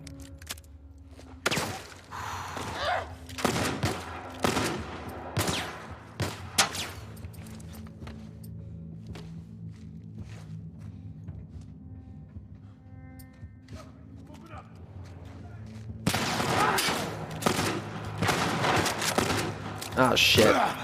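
Gunfire in The Last of Us Part I cracks out in sharp, loud shots, first in quick scattered bursts, then a quieter stretch, then a heavy volley near the end, with someone talking in between.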